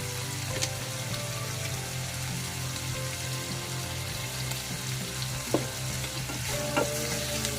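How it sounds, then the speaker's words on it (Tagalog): Shrimp fry in a pan with a steady loud sizzle, heard close and continuous, with a few faint clinks of utensils and no talking. "lutuin lang muna natin yung shrimp guys"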